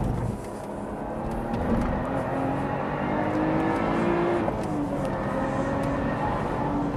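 Lotus Evora Sport 410 lapping a race track, engine droning steadily with a rising pitch through the gears and a brief dip at a gear change, recorded from inside the car.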